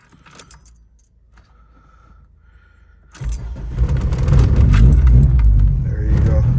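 Keys jingle, a starter cranks briefly and then a VW 16V engine running bike carburetors catches on a chilly day, settling into a loud, close, rough idle.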